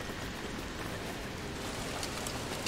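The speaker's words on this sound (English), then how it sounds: "Oh no, it's rain again." Steady rain in the video game Don't Starve: Hamlet, an even, continuous hiss of falling drops on surfaces, soft and unbroken with no talking.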